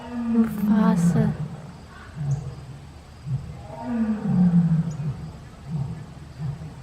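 Lions roar at an animal sanctuary, two deep drawn-out bouts of grunting roars carrying loud from nearby, with a person speaking softly over the start.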